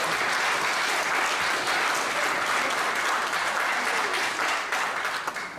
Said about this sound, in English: If you agree, give the Lord a hand clap